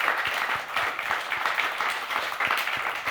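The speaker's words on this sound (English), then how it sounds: "Let's give him a round of applause." A lunch audience at a club talk on the war in Ukraine claps together in a sustained, even wash of applause of moderate loudness, with no voices over it.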